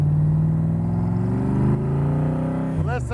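A 1965 Backdraft Cobra's engine idles and revs with a deep, steady rumble, loud and close, ending in a few sharp blips of the throttle.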